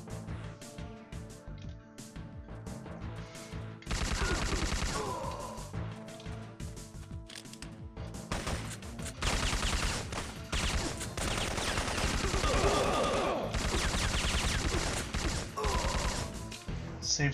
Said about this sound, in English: Save some of those bullets for later.